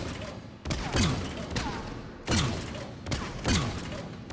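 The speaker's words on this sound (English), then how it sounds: "This weapon really isn't a traditional assault rifle. It fires grenades." Grenade-firing Falcon rifle in the video game Mass Effect 3, with four heavy thumping shots spaced about a second apart, each a loud broadband burst that trails off, under a faint bed of game ambience.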